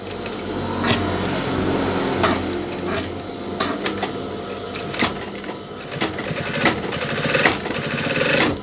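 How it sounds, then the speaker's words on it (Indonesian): An industrial sewing machine stitching a double seam on a denim jacket sleeve, with rapid mechanical whirring in several bursts, sharp clacks and short pauses between runs, loud and close, with no speech. "Kemudian kita jahit untuk bagian double-nya."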